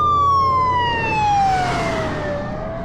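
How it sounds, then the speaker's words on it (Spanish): Ambulance sirens passing during a hot long-distance cycling event in the Pyrenees: a loud wailing siren tone sweeps downward as the vehicle goes by, with road noise underneath and no talk. "Están pasando una de ambulancias tremenda."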